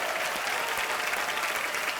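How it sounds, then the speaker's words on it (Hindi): A studio audience at a comedy show claps continuously, a dense, even wash of applause at moderate loudness holding steady throughout. "सर के लिए एक बार जोरदार तालियां आ जाए"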